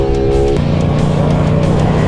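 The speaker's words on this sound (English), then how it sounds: "Watch out, here comes the mean car." A car passes close by on a road where DRZ400SM and FZ-07 motorcycles are riding, its loud engine droning steadily with a shifting tone across the whole moment.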